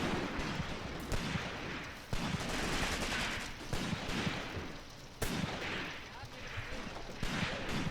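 Gunfire in the Graviteam Tactics war game comes in heavy, dense bursts of overlapping rifle and machine-gun shots with sharp cracks, loud and continuous, while a voice talks underneath.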